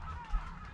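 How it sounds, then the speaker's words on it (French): Gulls calling on a small island off the Italian coast near Giannutri at morning, a single brief honking call close by over a steady low background rumble. "On est au milieu des goélands."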